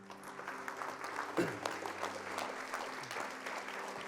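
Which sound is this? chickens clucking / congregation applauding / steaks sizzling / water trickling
congregation applauding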